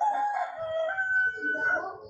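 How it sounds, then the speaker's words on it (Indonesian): A rooster crows in a drawn-out, wavering cock-a-doodle-doo lasting about two seconds, fairly close and clear, with no talking over it. "Ayam jago."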